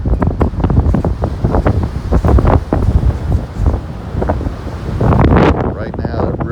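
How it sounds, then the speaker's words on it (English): Strong river wind gusting around thirty miles an hour along the Mississippi at Algiers Point as a hurricane approaches, buffeting the microphone in loud, rough bursts from start to finish. "Right now, that river wind is blowing and it's gusting probably 30 miles an hour."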